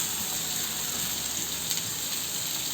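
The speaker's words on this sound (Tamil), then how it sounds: "2 வெங்காயம் கட் பண்ணி வச்சுருக்கேன் பொடிசாக. இது கூட சேர்த்துக்கிறேன்." Finely chopped onions fry in hot oil for a Tamil chicken gravy, giving a steady, close sizzle with a bright hiss that holds evenly from start to finish.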